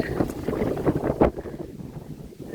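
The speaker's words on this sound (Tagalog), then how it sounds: "Nami ay hangin kaayo guys." Strong wind blows at sea near Onuk Island in Balabac, roaring steadily and buffeting the microphone with a rough, loud rush and a few sharper gusts.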